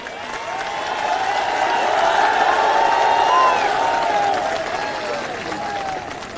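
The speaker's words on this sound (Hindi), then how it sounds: "एक बार जोरदार तालियां हमारे सभी युवा साथियों के लिए।" Crowd at a political rally in Rewa clapping and cheering, a dense wash of applause with scattered shouts and whoops that swells toward the middle and then eases slightly, fairly close and steady throughout.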